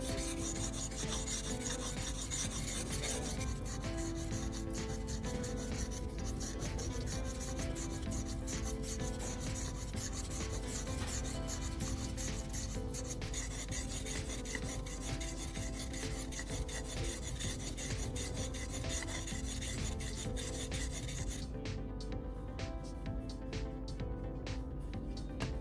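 Chisel sharpened in a honing guide with light strokes, giving a constant close rasping, rubbing scrape that runs without a break and thins slightly toward the end.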